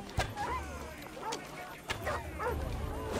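Dogs in the video game Assassin's Creed Odyssey barking and yipping in short repeated bursts amid game sounds and combat noise, with a person talking over them throughout.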